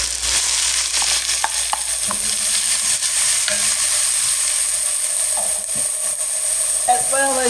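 Garlic, ginger and Thai peppers are stir-fried with green onions and mushrooms in a hot pan, giving a steady, close sizzle with scraping stirs and clacks of the utensil throughout.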